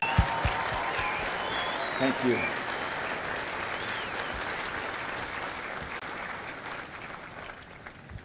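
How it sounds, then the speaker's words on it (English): Sustained crowd applause at a Marine Corps boot camp graduation ceremony at MCRD San Diego, honoring drill instructors and families, steady clapping throughout with a brief spoken thanks over it. "please join me in a well-deserved round of applause for the drill instructors"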